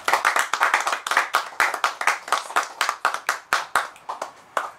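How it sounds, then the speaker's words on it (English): A small audience at an open mic poetry reading in a bookshop claps for a poet, fairly close, with crisp, distinct hand claps in a steady, rhythmic burst and no talking. "Let's give a big round of applause for Chelsea."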